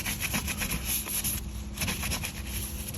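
Rhythmic rubbing and wiping strokes on a Lexus RC F's rear bumper surface, cleaned before carbon fiber diffuser installation with VHB foam tape; steady, close and continuous with no talking.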